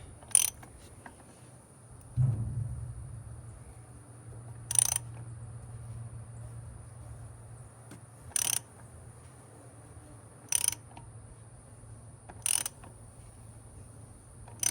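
A ratchet tightens the 24 mm fuel filter cap on a 6.0 Power Stroke diesel, giving about six sharp, spaced clicks close by over a low steady hum.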